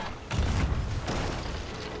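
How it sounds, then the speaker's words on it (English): A boom from an island cannon firing in a naval video game, a single deep blast with a rumbling tail and no voices over it. "That's the island cannon."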